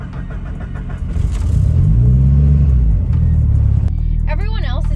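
A Mitsubishi Evo turbo engine cranks and fires up at a JDM car meet, settling into a loud, deep rumbling idle close by, with a brief voice near the end.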